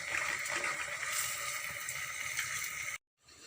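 Dahi bhalla batter drops into hot oil and fries with a dense, crackling sizzle that holds steady, then cuts out abruptly near the end before faintly returning.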